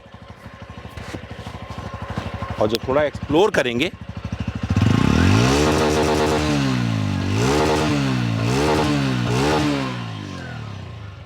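A 2022 TVS Radeon 110cc motorcycle starts and settles into a close idle, then is revved repeatedly in rising and falling bursts, loud and steady, with someone talking briefly at the start.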